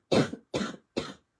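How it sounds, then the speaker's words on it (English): Three harsh coughs in quick succession, close and loud, each separated by a short pause. "I have a cough and it is horrendous"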